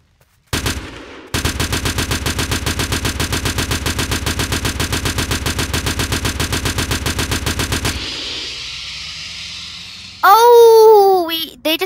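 Gunfire in the video game Polybattle: one quick shot, then a long burst of loud, rapid, evenly spaced automatic fire, followed by a fading rumble and a short whooshing game effect.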